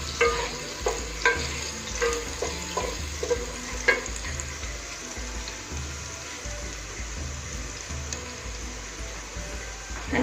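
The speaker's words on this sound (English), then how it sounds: "Now after giving garlic, again very little I will fry it." Garlic fries in a pan for a Bengali chicken pulao, a soft steady sizzle broken by intermittent stirring clicks and scrapes close by, with no talking.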